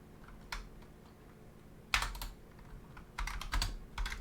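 Computer keyboard being typed on in scattered bursts, crisp close key clacks with pauses between flurries, no voices present.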